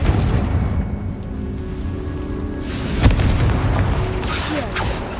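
Confringo fire spell explosions in the video game Hogwarts Legacy, a sharp burst standing out near the middle against a dense rumbling, crackling game soundscape with repeated impacts.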